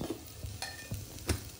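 Masala rice with goda masala, salt and a little sugar is stirred and sautéed in an oiled pan, a soft sizzle broken by a few distinct scraping strokes of the spoon.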